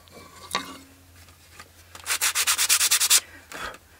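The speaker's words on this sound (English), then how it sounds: "Drilled almost all the way through." A drill with a hole saw cutting a wheel out of wood, heard as a rapid series of about a dozen rough rasping bursts after a few scattered scrapes, close and with no talking.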